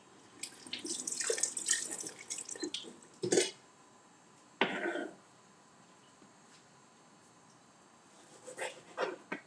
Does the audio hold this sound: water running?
yes